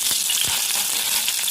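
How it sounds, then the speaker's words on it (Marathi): Mustard seeds, cumin, curry leaves and green chili hit hot oil with a loud, close, crackling sizzle, with a few sharp pops and spits in the first half-second before settling into an even hiss. "आता मोहरी टाकूया, जिरं, मोहरी, कढीपत्ता, त्याच्यामध्ये हिरवी मिरची,"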